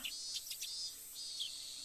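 Cicadas shrill in short, faint chirring bursts in the Higurashi video game, a high steady buzz with no voices over it.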